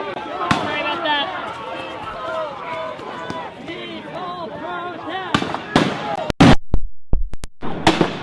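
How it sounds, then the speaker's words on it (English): Loud, sharp flash-bang blasts thrown by police at a street protest at the intersection of Yamhill and 6th, several bangs in the final seconds over a steady roar of crowd noise and chanting voices. "Police are throwing flash and grenades to"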